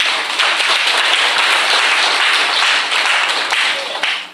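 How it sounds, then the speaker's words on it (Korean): An audience at a public lecture claps for itself, a loud, dense burst of applause that holds steady for several seconds before beginning to fade at the end. "스스로에게 박수를 쳐주십시오."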